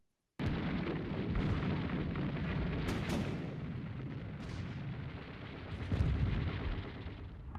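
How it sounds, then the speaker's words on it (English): Distant war soundscape of rumbling bombs, artillery and explosion bursts with tanks and planes, a continuous dense low roar with a few sharper booms, steady and fairly loud throughout with no voices. "this is just sort of a background of distant war sounds, bombs, tanks, bombs and planes and whatnot"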